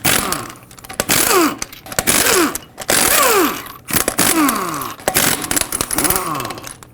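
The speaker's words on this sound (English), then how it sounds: "Take a 22mm socket and remove all 6 of your lug nuts." An impact wrench with a 22mm socket spins lug nuts off a 2015-2020 GMC Yukon wheel in loud, close bursts, each whirring rattle dropping in pitch as a nut frees, repeated several times.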